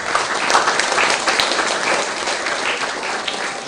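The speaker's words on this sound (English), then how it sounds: "Give yourselves a round of applause." Loud, full applause from an audience, continuous dense clapping at an even level from start to finish.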